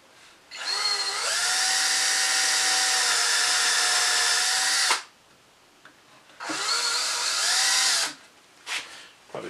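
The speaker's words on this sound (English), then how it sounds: "we'll drill an 1/8 inch hole. So I set my bit to there, and we'll drill through here" A battery drill bores an eighth-inch hole through wood in two bursts, a loud whining motor that rises in pitch as it spins up, stops, then runs again briefly.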